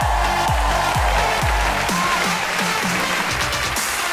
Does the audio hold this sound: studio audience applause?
yes